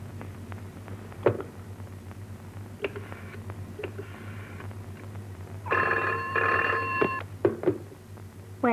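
An old landline telephone bell rings in a short burst, loud and close, after quieter room noises and clicks.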